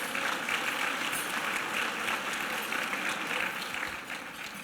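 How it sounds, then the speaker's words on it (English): Sustained applause from an audience at an evening student human relations awards ceremony in Winston-Salem, a steady dense patter of clapping that fades slightly at the end. "let's give everybody else a round of applause"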